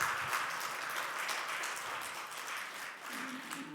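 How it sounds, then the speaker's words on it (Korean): Church congregation clapping to welcome a new member, a steady, fairly dense wash of applause from many hands at moderate distance, continuing evenly throughout. "우리 박수로 환영하시겠습니다."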